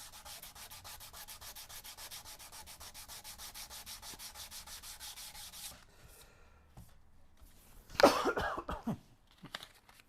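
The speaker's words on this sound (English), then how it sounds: "Swallowed a little wrong there. I got a bit of a cough." Steady scratchy rubbing of sandpaper on guitar X-braces gives way to a few sharp coughs and throat clearing, close by, then quieter rustling.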